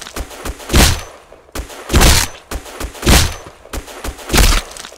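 Loud, close gunshots in the shooter game Black Squad, fired in evenly spaced short bursts of about five rounds, each burst a heavy thumping crack with a brief gap between.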